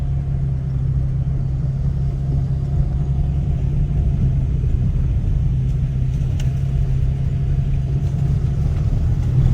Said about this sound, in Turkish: Motosikletler hızlı gidiyor arkadaşlar.